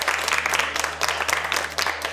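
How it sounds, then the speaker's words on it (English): Dense applause from a studio audience of women on a competition show, a steady wash of many hands clapping for about two seconds over a low steady hum. "Give yourselves a round of applause."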